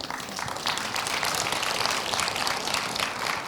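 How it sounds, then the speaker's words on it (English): Applause from an audience at a tech event honoring five presenters, a dense steady wash of clapping filling the room without pause. "If we could have an even bigger round of applause for these 5 brave girls that just presented in front of us."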